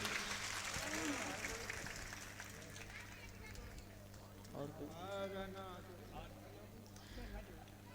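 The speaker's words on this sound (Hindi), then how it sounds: "एक बार ताली बजाओ जरूर आज ताली महाराज जी के लिए।" Audience clapping at a Bhagwat Katha religious discourse at a Shiv temple, a broad, steady patter of many hands that runs across the whole stretch, mixed with talk and chanting over a persistent low hum.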